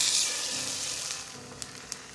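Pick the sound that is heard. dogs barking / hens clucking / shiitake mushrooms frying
shiitake mushrooms frying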